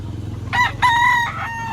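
A rooster crows loud and close in a single long, harmonic cock-a-doodle-doo at a poultry sale in Lipa, Batangas, over a low steady background hum.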